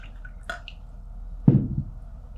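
Filtered water poured from a cup into a blender for a green juice recipe, a short splashing pour with a faint drip before it, close and alone in a quiet kitchen.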